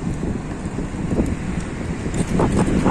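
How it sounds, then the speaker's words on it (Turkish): Steady, blustery wind buffets the microphone outdoors in Ankara, a constant low roar with faint passing traffic beneath it. "Acayip de rüzgar var dışarıda."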